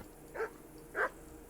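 Two sharp barks come from a dog in the medieval game Kingdom Come Deliverance, close and distinct against faint background ambience.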